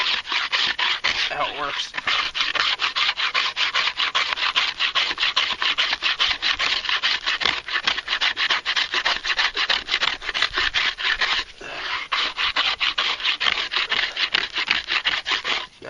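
Steady rasping scrape of a blade shaving wood, spokeshave-style, while making an Aztec macuahuitl sword, in continuous rapid strokes up close with a brief pause near the end; a voice speaks briefly.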